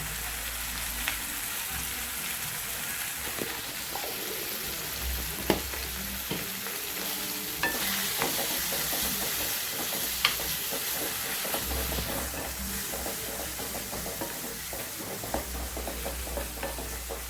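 Eggplant and tomatoes fry in a pan with a steady, dense sizzle, while a utensil stirs through them and scrapes the pan in scattered knocks and clinks, with no talking.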